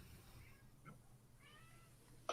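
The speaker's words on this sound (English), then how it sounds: "my cat is getting mouthy" A cat meows faintly and far off, with a couple of short calls against quiet room noise and no talking.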